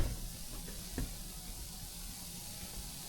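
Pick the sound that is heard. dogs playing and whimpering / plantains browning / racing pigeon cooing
plantains browning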